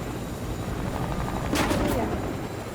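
Steady rotor drone of a helicopter in the Fortnite video game fills the scene at moderate loudness, with a brief burst of noise near the middle.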